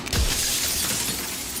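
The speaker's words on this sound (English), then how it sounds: "Another and another, turning the mirror into jagged shards of broken glass." A mirror in the game Slay the Princess cracks and shatters, a sharp, loud burst of breaking glass followed by a bright, fading tinkle of falling shards.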